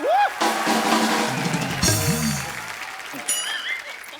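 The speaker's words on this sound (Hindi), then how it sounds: "जोरदार तालियां टाइगर भाई के लिए।" A studio audience applauds on The Kapil Sharma Show comedy stage, producing a broad wash of clapping that runs under overlapping voices and other show sounds.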